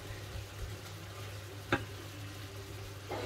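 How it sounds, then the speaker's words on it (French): Tomatoes and meat simmering in a pan for a quick gratin make a low, steady sizzle and bubbling, with a single sharp clink of a utensil against the pan midway and a soft stir near the end. "je laisse cuire ça pendant 5 minutes à peu près, le temps que les tomates, la viande à cuire, que tout cuit"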